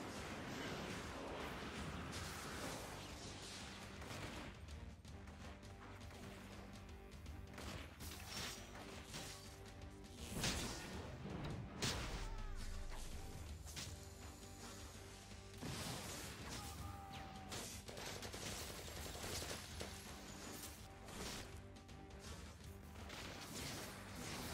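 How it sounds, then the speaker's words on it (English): Infamous 2 gameplay in a parish street setting, with repeated blasts and crashing debris mixed with mechanical clatter and game music, the biggest explosion hitting around the middle of a dense, continuous soundscape. "That one explosion killed me?"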